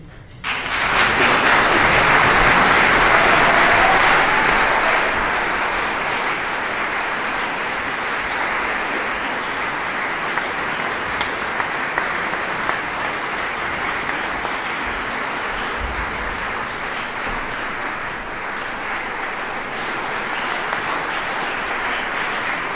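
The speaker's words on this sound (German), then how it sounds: "ich bitte Sie nun um einen herzlichen Applaus" An audience gives sustained applause for a finalist at an oboe competition final, loudest in the first few seconds and then settling into a steady, dense roar of clapping that continues throughout.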